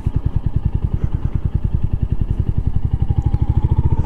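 A new Royal Enfield Hunter 350 single-cylinder motorcycle is ridden on wet ground, its engine thumping loud and close in a fast, even pulse that continues steadily with no speech.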